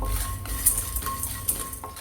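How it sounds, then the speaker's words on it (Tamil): Asafoetida and salt dry-roasted in a hot pan while preparing horse gram rasam powder, with light scraping and metallic clinks of a utensil against the pan over a low hum. "பெருங்காயம் உப்பு ரெண்டுத்தையும் நம்ம இந்த சூட்லேயே வறுத்துக்கிறோம்."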